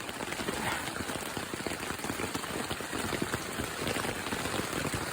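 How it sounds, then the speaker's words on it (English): Steady rain falls through the night on a campsite in FDR State Park, a dense, even patter on a tarp and bivy bag filling the whole stretch, close and continuous with no talk. "it's been raining pretty good all night."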